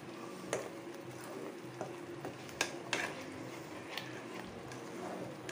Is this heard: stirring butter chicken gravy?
yes